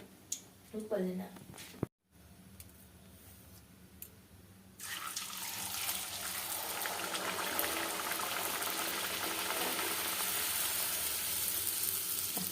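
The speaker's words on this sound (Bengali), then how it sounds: "আটা দিয়ে লুচি হবে তেল বসিয়েছি হুম লুচি হচ্ছে" Luchi, puffed wheat-flour bread, deep-frying in hot oil: after a few quiet knocks and a short gap, a loud, dense, hissing sizzle starts suddenly and runs continuously to the end, with a voice faintly audible early on.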